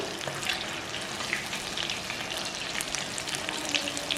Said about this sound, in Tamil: இப்போ லைட்டாக நீங்கள் திருப்பி போட்டு அதை ஃப்ரை பண்ணுங்கள்